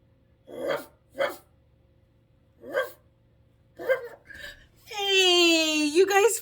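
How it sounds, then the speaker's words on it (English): A dog barks in four short, separate bursts, then lets out a long, rising whine or howl. The sounds are fairly close and there is no other noise. "I thought I heard a woof in here"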